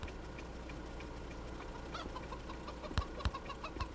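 Chickens cluck steadily in a laser tag video game, a continuous bed of fowl chatter with a few sharper, louder squawks near the end.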